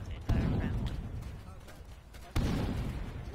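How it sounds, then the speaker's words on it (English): Distant gunfire and artillery in the Arma 3 military game: two sharp heavy bursts with rumbling decay, faint and muffled behind the player's position. "Who's firing on us?"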